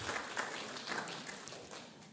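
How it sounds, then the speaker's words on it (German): Audience applause at the close of an evening energy-policy panel discussion, a fairly quiet, steady spatter of clapping lasting a couple of seconds with no speech over it. "Zum Schluss dann doch noch ein Applaus für Sie."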